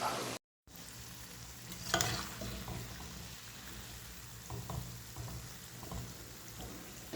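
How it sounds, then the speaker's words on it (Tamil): Urad dal bondas fry in hot oil with a steady, fairly soft sizzling hiss, broken by a brief dropout and a few louder crackles as they are turned; nobody speaks. "பொரிக்கும் போது நல்லா பெரட்டி பெரட்டி விட்டுக்கோங்க அப்போ தான் எல்லா சைடும் வேகும்"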